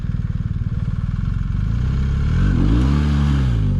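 A BMW R 1300 GS motorcycle engine loud and close during a slow low-throttle turn, first a rapid pulsing idle and then a smooth swelling rev as the throttle opens.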